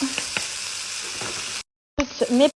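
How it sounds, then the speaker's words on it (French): Leeks and bacon lardons frying in a pan, a steady close sizzle with a few stirring scrapes, then a brief gap before louder sputtering bursts. "J'ajoute mes petits lardons à l'intérieur. Donc là, on va faire poêler un petit peu le tout."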